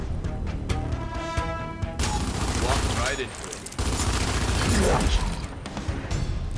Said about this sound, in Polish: nawet ładnie te strzały poszły.